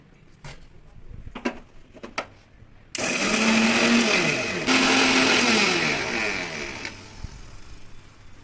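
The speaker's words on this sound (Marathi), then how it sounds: "आपण हे दळू. मिक्सरमध्ये दळून." A kitchen mixer grinder whirs loudly as it grinds chillies, curry leaves and spices, starting abruptly after a few soft clicks and running steadily for several seconds before winding down.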